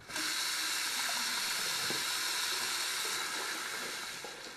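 Steady rushing of hot water pouring from a tap, continuous and fairly close, with a faint hiss and no voices.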